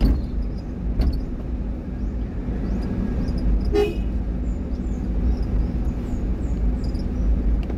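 Car horn on a narrow road, a short toot near the start and another sharp honk a few seconds later over a steady engine and road rumble.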